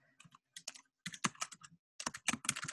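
Quiet bursts of typing on a computer keyboard, rapid clustered key clicks separated by brief pauses, with no speech over them.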